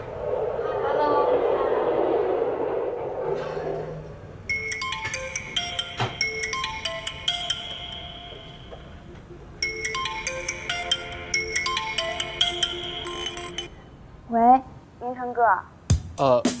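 An incoming call sets off a phone ringtone, a looping electronic melody heard in two long bursts, with louder noise before it and brief voice-like sounds near the end.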